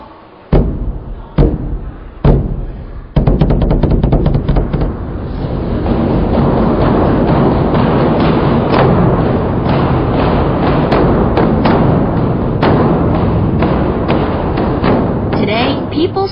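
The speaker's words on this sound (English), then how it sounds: "People still strike the drum" A large drum at the Beijing Drum Tower is struck in a few loud, booming single blows, then beaten in a dense, continuous roll, with a voice talking over it.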